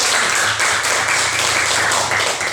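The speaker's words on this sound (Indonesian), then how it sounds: "Ya, bagus sekali. Tepuk tangan dulu." Classroom applause during a school lesson in Indonesia: a dense, steady patter of many hands clapping together for the whole stretch, fairly loud and continuous.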